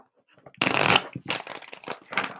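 Tarot cards are riffled and shuffled in a few quick bursts of crisp flapping, close and fairly loud, separated by short pauses.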